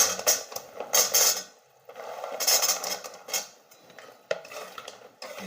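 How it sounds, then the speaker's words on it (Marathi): Green chilies are stirred into thick sugar syrup that is crystallising. A spoon clatters and scrapes against the pot in irregular bursts, with short gaps between strokes. The sound is close and fairly loud, with no talking. "आता याच्यात मी मिरच्या टाकून घेणार आहे"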